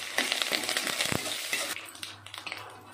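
Curry leaves drop into hot oil already holding mustard seeds and cumin, setting off a burst of crackling sizzle with quick pops and spatter, close and lively, then settling to a lighter fizz.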